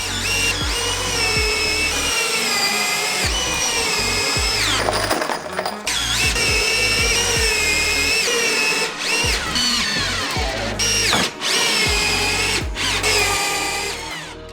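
Power drill driving 6x120mm screws into timber roof framing, repeated bursts of loud whining motor that rise in pitch and strain as each long screw sinks in, with brief pauses between runs.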